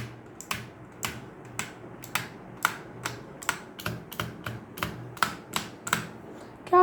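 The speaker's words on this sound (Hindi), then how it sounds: "ये मैकेनिकल कीबोर्ड है।" Keys clack on a Razer Huntsman 60% mechanical keyboard in a steady run of crisp, evenly spaced strokes, each click close and distinct against a quiet background hum.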